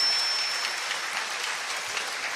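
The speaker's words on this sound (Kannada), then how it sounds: "ನಿಮ್ಮೆಲ್ಲರ ಜೋರು ಚಪ್ಪಾಳೆಯೊಂದಿಗೆ ವಂದನೆ, ಅಭಿನಂದನೆ, ಪ್ರೀತಿಯ ಧನ್ಯವಾದಗಳು" Audience at a music concert clapping together, a dense steady burst of applause heard alone and fairly close throughout.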